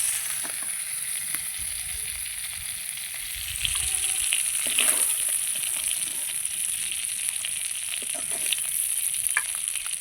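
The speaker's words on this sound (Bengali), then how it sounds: "চিংড়ি মাছগুলো ভেজে নিয়েছি বা নামিয়ে নিচ্ছি" Large prawns frying in hot oil in a pan give a steady bright sizzle throughout, with a few soft stirring clinks and scrapes, and it grows slightly louder partway through.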